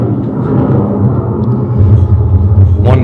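Thunder effect triggered from a haunted-room scare attraction's control board, a continuous deep rumble that swells louder in its second half, with a brief brighter burst near the end.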